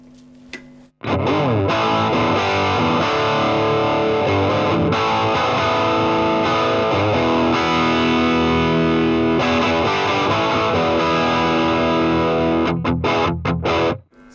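Electric guitar through an Orange Rocker combo amp set to half wattage with the volume turned up, a loud, sustained distorted wash of chords and notes ringing continuously after a brief quiet start, then cutting off at the end.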